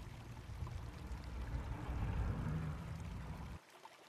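Water drains and pours steadily from a backflow test kit hose as the low side hose is bled, a soft close stream that swells slightly before stopping abruptly.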